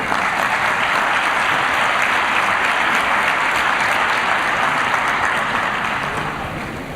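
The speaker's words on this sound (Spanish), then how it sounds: "Un fuerte aplauso para él" Conference audience at a forum on the future of television gives a loud, sustained round of applause welcoming a presenter, thick continuous clapping that holds steady and then eases slightly toward the end.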